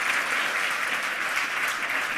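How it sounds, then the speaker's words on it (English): An audience applauds to welcome a speaker at a hacker conference, a dense, steady wash of clapping from many hands at even loudness throughout. "please give Lepht Anonym a really warm welcome"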